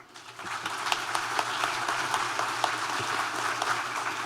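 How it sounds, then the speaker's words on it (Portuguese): Audience applause at a legal and financial conference for a pension regimes official, a steady sustained patter of many hands clapping, moderately distant, filling the hall evenly without talk. "Senhoras e senhores, vamos aplaudir mais uma vez o Dr. Paulo Roberto"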